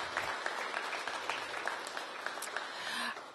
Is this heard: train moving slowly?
no